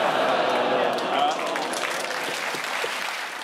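A studio audience at a British topical comedy panel show claps in a dense burst that slowly thins out, with a voice talking over the applause.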